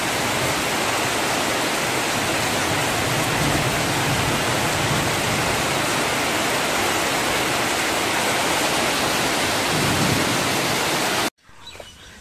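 Heavy rain falls in a dense, steady roar, loud and unbroken for several seconds before cutting off abruptly to quiet.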